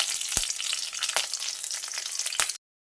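Panch phoron and a few green chillies sizzling in hot oil for a sarputi fish curry, a steady bright hiss with a few sharp stirring knocks, close and loud, cutting off abruptly at the end.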